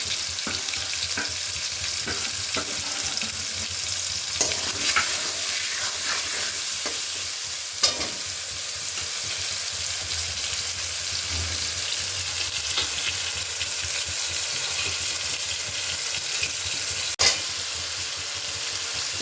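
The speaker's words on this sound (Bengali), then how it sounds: "সেগুলো তেলের মধ্যে ছেড়ে দেবো এবং হাই ফ্লেমে এটাকে কিছুক্ষণ নেড়ে ছেড়ে নেব" Potato pieces stir-fry in oil over a high flame, a loud, unbroken sizzle lasting the whole stretch, with occasional scrapes and clicks of stirring and no voices.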